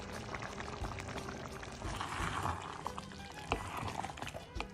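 Boiled dried black-eyed beans (lubia) tipped into a simmering pot of marqooq stew, a close wet pouring splash over steady bubbling and liquid churning.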